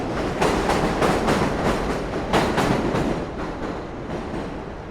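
An elevated subway train in Queens, New York, rumbles past right beside buildings, loud and close with rhythmic clickety-clack from the wheels, then slowly fades toward the end.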